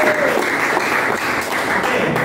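A classroom of students applauds in a dense, steady burst of clapping that holds at an even loudness for a couple of seconds, with no talking over it.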